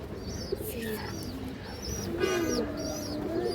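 A male Bezi pigeon coos repeatedly, soft throaty calls rising and falling against a busy loft background with other birds chirping nearby and faint voices.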